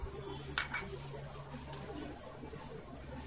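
A metal strainer is set into a kadhai on a gas stove while making sabudana namkeen, giving one sharp metallic clink early on, followed by faint softer scrapes against a quiet kitchen background.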